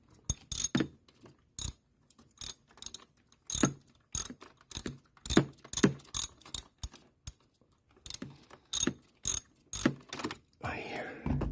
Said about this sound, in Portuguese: E agora eu vou ver com a chave catraca.